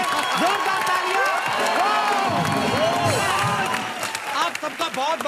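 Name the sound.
studio audience applause and cheering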